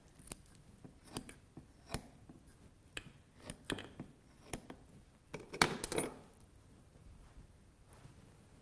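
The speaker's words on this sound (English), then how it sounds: "you want to continue your cutting all the way down the center until you have 2 halves opened up" Scissors cutting down the centre of a kidney during a dissection make a series of sharp, close snips at irregular intervals, some louder metallic clicks near the end, with no talking.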